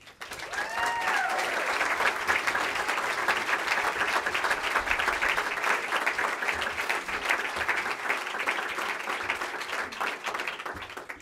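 An audience at a graduation ceremony applauds to welcome a speaker, a dense and steady clapping from a large crowd that swells in quickly and holds for about ten seconds.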